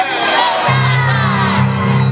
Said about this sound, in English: a royal round of applause for Princess Rapunzel. And a hearty huzzah for Flynn Rider